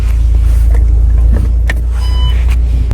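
A 2020 VW Passat B8 with a 2.0 diesel of 110 kW on a test drive, heard from inside the cabin as a loud, steady low engine and road rumble with a few faint clicks.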